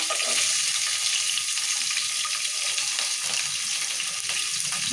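Green chillies and onions frying in a pan for wheat rava upma, giving a steady, bright sizzle that continues without pause, close and fairly loud.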